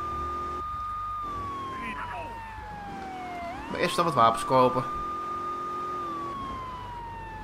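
Police car siren in Grand Theft Auto III, a stolen cruiser's steady electronic wail running throughout while game music and voices play and a person speaks over it.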